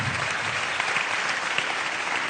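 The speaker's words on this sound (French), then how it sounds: "Vous pouvez l'applaudir." An audience applauds at a national awards ceremony, a steady, dense wash of many hands clapping throughout.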